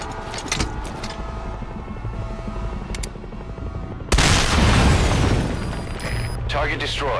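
An anti-air emplacement blows up in Metal Gear Solid V: Ground Zeroes, a sudden loud blast that cuts in midway over ongoing game rumble and clatter, then a rolling roar as it dies down.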